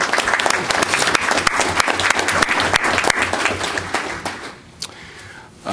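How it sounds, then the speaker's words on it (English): Sustained applause from a room of attendees at a Texas Higher Education Coordinating Board meeting, dense steady clapping for about four seconds before it thins out and fades. "let's give her an internet round of applause"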